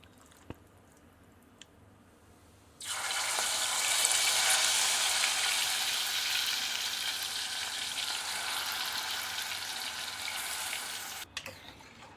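Marinated chicken hits hot oil already frying cloves and cinnamon, setting off a sudden loud, bubbling sizzle that holds steady for several seconds before cutting off abruptly, after a quiet start with a couple of light knocks.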